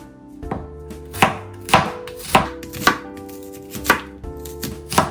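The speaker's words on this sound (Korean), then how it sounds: "양파 채쳐주시면 되세요." Knife slicing onion into strips on a cutting board, about eight sharp, evenly spaced chops with a steady rhythm, close and crisp with no talking.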